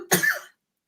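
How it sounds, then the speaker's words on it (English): A single short cough, close and fairly loud, followed by silence. "A cough is not good for a live stream."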